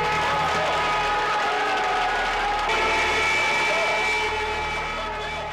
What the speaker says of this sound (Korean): 종소리가 울리자 시민들은 박수로 화답했다.